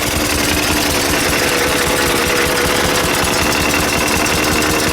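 A 1904 Mitchell light car engine running with its exhaust open, a loud, close, steady rapid chugging and rattling that fills the whole stretch without pause and without voices.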